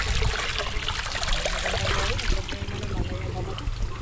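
Water from a natural roadside spring runs and trickles steadily close by, a continuous splashing flow under people talking.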